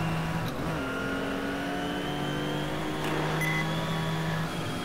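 A race car engine drones steadily during a motor race under a yellow flag, its layered tones holding level with a brief rising surge near the end, moderately loud and continuous without talk.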